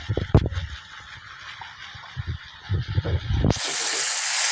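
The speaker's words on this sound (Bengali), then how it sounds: "এখন আমি কাটা ভাজিগুলো সব ফ্রাই প্যানে দিয়ে দিই।" Chopped bottle-gourd peel, flat beans and potato are tipped into a frying pan: a few clattering knocks, then a sudden loud, sustained sizzling hiss as the vegetables hit the hot oil.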